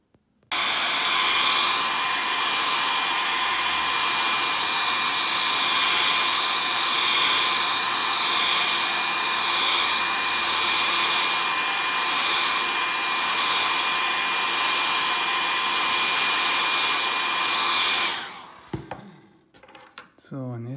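A hair dryer blows steadily on a broken glass KNX light switch, a loud even whir running for about eighteen seconds before it cuts off and handling noises follow.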